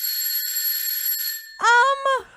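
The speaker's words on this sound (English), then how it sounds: "I'm thinking like a doorbell." A bright electronic chime rings out in a couple of quick tones, like a doorbell, following a thin high-pitched hum.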